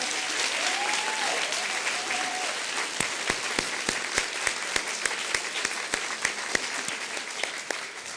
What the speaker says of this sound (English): let's give a couple of rounds of applause to Melissa